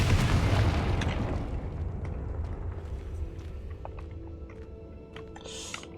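A blasting spell explosion in the Hogwarts Legacy game: a deep booming burst opens loud and decays over about a second, followed by scattered small clatters and debris pops under a quieter background.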